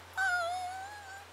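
A cartoon puppy whimpers once in the animated Spanish-language series Tayo the Little Bus, a single drawn-out, falling, high-pitched whine, fairly close and alone over a steady low hum.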